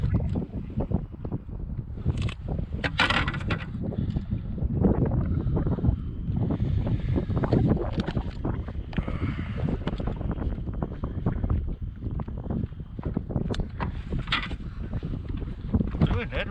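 Wind blowing across a North Georgia lake while fishing from a Nucanoe Pursuit 13.5 kayak, a steady rumbling buffet on the microphone with water sloshing nearby and someone talking over it.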